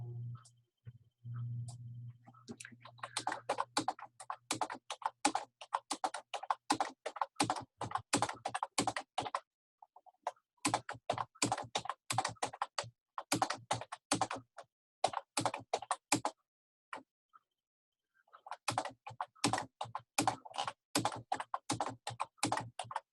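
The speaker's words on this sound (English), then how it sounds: "I'll type our alphabet out" Steady clatter of keys on a computer keyboard, typed in quick bursts with short pauses between runs, close and clear with no talking.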